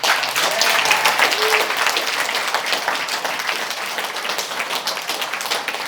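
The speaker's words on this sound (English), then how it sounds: "Give my wife a round of applause for that" Audience applause at a regional business conference, a dense burst of many hands clapping that starts loud and gradually thins out over several seconds.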